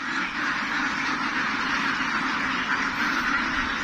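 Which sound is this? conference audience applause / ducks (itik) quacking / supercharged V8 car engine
ducks (itik) quacking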